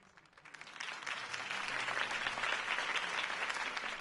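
A crowd at a campaign speech in a PS4 video game bursts into applause, quickly swelling from scattered claps into steady, full clapping and cheering.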